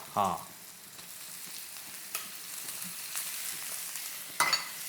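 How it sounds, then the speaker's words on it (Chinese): Rice and shrimp stir-fried over high heat for pineapple fried rice, a soft continuous sizzle with a few sharp clanks of the spatula against the wok at the start and end. "大火大火先翻一翻炒"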